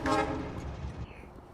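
Train from the video game Factorio pulling into a stop, a short horn-like toot and rolling rail rumble that fades after about a second, heard alone.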